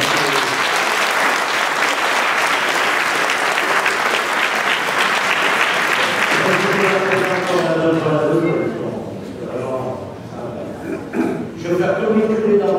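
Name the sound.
audience applauding the brass band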